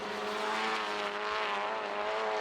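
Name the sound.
race car accelerating with rapidly climbing revs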